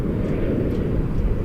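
An airliner at Toronto Pearson Airport gives off a steady, fairly loud low jet-engine roar that holds evenly without change for the whole brief moment.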